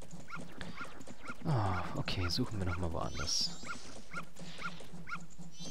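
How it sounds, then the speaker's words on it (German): A dog in The Legend of Zelda: Majora's Mask gives short barks and whimpering yelps over the game's steady background music, while a player talks over much of it. "Nein, du doofer Hund."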